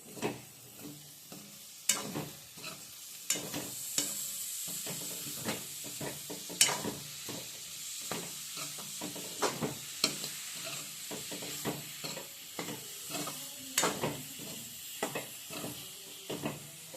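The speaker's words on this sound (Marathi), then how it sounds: "मशरूम टाकल्याच्या नंतर आपण थोडासा मध्यम आशेवरती ह्याला परतून घेऊया आधी" Mushrooms sautéed in an onion-tomato masala over medium heat, with a continuous low sizzle broken by frequent sharp spatula scrapes and taps against the pan in an uneven rhythm, close and fairly clear.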